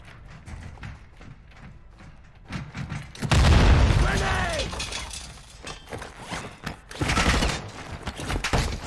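A grenade explosion in the DMZ mode of a Call of Duty-style shooter on Ashika Island: a loud, broad blast bursts in around three seconds, then rolls off slowly. A second, smaller boom follows, with voices and game noise around it.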